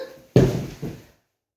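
Two dull knocks on a door, a loud thump followed by a softer second one about half a second later, close by and alone.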